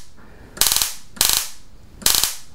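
A homemade nitrogen laser fires in three sharp buzzing bursts of rapid crackling discharge pulses, evenly spaced about half a second apart, loud and close over a faint background hum, with no talking.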